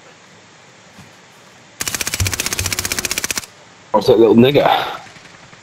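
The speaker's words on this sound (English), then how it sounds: "Wow, who's shooting me?" Rapid automatic gunfire rattles in the game Warzone, a loud, even burst of closely spaced shots lasting about a second and a half, followed by someone talking.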